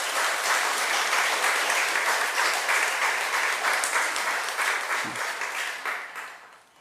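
A church congregation claps in sustained, dense applause that fills the room at a steady level, then gradually thins and fades toward the end.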